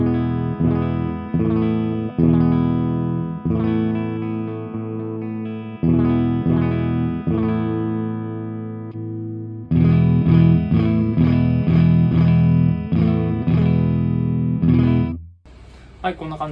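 Fender Mexico Cyclone electric guitar with the shop's own front and rear pickups, played dry with reverb off through a Twin amp: repeated strummed chords in a steady rhythm with a slightly driven, bright tone, close and loud.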